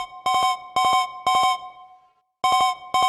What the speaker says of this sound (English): This kind of sounds like a phone, right? Just sounds like a phone ringing